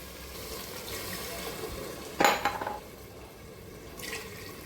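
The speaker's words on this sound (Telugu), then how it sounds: "6 గ్లాసెస్ వాటర్ పోసుకోవాలి" A brief splash of water being poured into a pot, a short gurgling burst in the middle, surrounded by quiet kitchen background.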